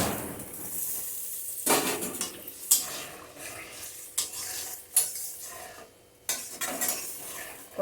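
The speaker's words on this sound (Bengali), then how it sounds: "বাটিটা ধুয়ে চিনিটা দিয়ে দিচ্ছি।" A sugar bowl gets rinsed and sugar water is poured into a pot of Bengali sour jujube chutney, with splashing water, clinks of utensils against metal and a faint sizzle in short bursts.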